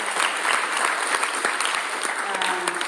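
An audience applauds parents at a school gathering, a steady, close roll of many hands clapping with a voice briefly heard over it.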